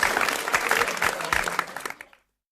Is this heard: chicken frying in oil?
no